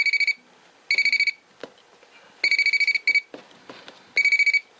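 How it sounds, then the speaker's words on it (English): A small non-contact voltage tester emits bursts of rapid high-pitched beeps, several short clusters separated by pauses and faint clicks and handling sounds. "I'm going to use this non-contact voltage indicator. So if there was voltage here,"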